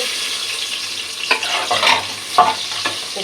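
Spice paste hits hot oil in a pan for beef khichuri, giving a loud, steady sizzle broken by a few scraping stirs from a spoon.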